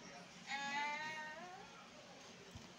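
A cat gives a single clear, drawn-out meow, close and fairly quiet, with a soft background and a small knock near the end.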